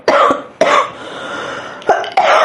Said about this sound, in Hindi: यार आपको कितनी खांसी हो रही है यार?